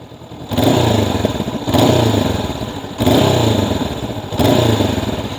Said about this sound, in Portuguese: O escape está engraçado, gosto da sonoridade, a sonoridade é muito boa.